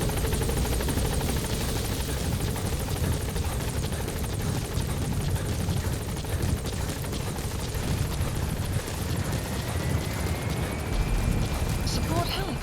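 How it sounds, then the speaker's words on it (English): Support helicopter in the video game Metal Gear Solid 5, its heavy rotor thump and engine roar close and continuous at full loudness throughout, with a radio voice talking over it. "Support helicopter has arrived."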